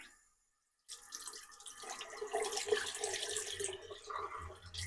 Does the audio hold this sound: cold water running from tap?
yes